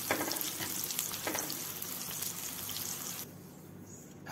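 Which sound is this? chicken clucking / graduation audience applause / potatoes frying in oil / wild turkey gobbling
potatoes frying in oil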